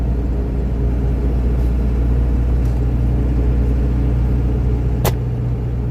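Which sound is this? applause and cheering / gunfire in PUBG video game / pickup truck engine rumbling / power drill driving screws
pickup truck engine rumbling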